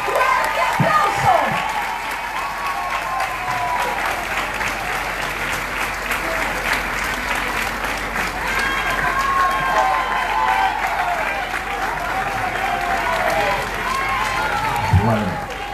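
A crowd in La Romana gives loud, sustained applause welcoming the mayor-elect Eduardo Carmona, steady clapping with some cheering and faint voices underneath throughout.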